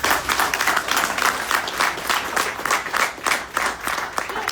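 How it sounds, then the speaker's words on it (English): An audience applauds Professor Neelkanth Chhaaya, an architect and academician, at a talk: dense, steady clapping from many hands, fairly close and loud, sustained throughout without speech. "a round of applause."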